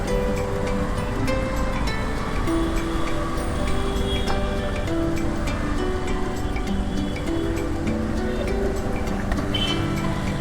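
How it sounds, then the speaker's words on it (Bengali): Water churns and washes constantly as vehicles crawl through a flooded city road in a Dhaka traffic jam, pushing waves along, a dense unbroken wash with engine hum and no talking. "এখানে গাড়ি যাওয়ার ফলে যে ঢেউ তৈরি হইতেছে"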